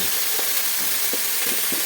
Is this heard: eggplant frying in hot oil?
yes